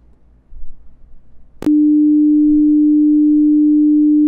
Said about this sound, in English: you hear the frequency that you changed it to